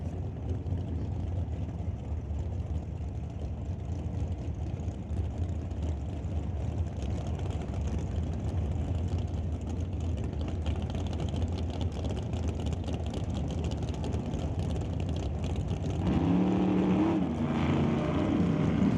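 Chevrolet drag race cars, one a Malibu, roar down the strip at a Doorwarz eliminations event, a loud steady engine drone throughout that swells and deepens near the end.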